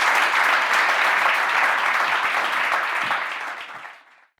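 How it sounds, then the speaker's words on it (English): A live audience gives a big round of applause after a podcast panel discussion, a loud sustained wash of clapping hands that holds steady for several seconds before fading quickly to silence. "Can we have a big round of applause for all of these?"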